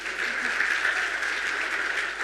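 Sustained, steady applause from a festival audience, with a dense wash of many hands clapping at an even level for the whole clip.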